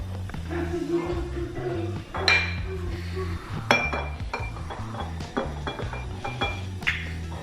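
Metal pans and utensils clink and clatter in a few distinct knocks over a steady low background hum.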